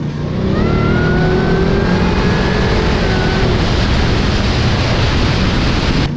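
A supercharged pickup truck engine roars at full throttle, a loud sustained rising whine and rumble heard close, with rain and wind noise layered in.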